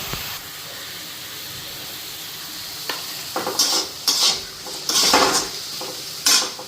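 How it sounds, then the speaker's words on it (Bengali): Boal fish fries in a pan on a gas stove with a steady sizzle. Partway through come several loud bursts of stirring and utensils scraping against the pan. "এটা এখন ভাজা হতে থাক"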